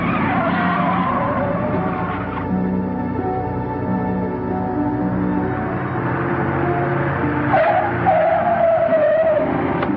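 A 1940s car brakes hard with a long tire squeal and skid over its running engine, loud and close, the screech rising again near the end as it comes to a stop.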